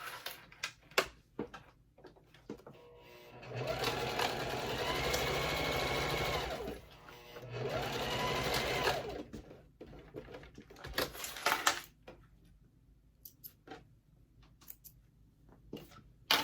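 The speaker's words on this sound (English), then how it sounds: "So let me sew the bottom closed." A domestic sewing machine stitches the bottom of a wallet closed in two sustained runs of rapid, steady whirring and needle chatter, separated by a brief pause and framed by scattered clicks and handling noises.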